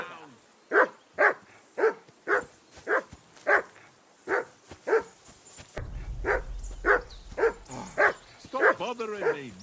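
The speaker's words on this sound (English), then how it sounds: "I assume you can hear that damn dog of yours barking." Dog barking in the video game Kingdom Come: Deliverance 2, a long run of evenly spaced loud barks, about a dozen, continuing as low ambient game sound rises partway through.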